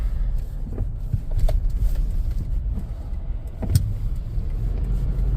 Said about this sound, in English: So that is the purpose for this quick little drive.